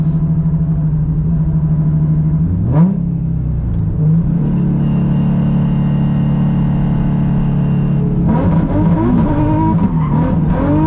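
A 2003 Nissan 350Z with a swapped VQ35HR engine hums steadily, then brakes hard with a sharp tire squeal; the engine drones on and revs again as the tires chirp near the end.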